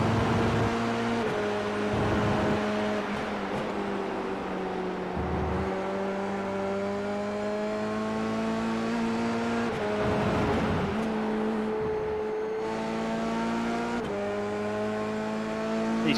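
Formula 3 race cars circle Donington Park in a racing sim, engines whining in long sustained tones that rise and fall with gear changes, one car's pitch sweeping past another's, with no talking.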